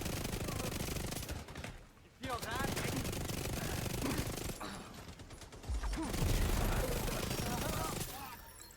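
NPC firing a mounted gun in The Division 2, sustained rapid bursts of gunfire dense across the whole clip with a brief lull near two seconds, mixed with other game combat noise.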